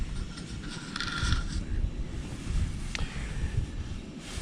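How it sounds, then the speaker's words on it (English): Steady outdoor wind buffeting with low rumbling gusts throughout at a spring carp-fishing spot, a few faint mechanical tones and a brief click partway through. "still pretty windy out there"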